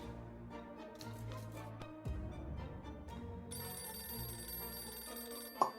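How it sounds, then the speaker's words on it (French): A telephone rings in the video game 60 Seconds, a repeating electronic ring sounding over game music and effects with no speech. "Le téléphone, c'est quoi?"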